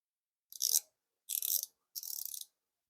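A small-body 3/8-inch ratchet clicks in three separate short bursts of rapid, bright ticking, close and clear against silence.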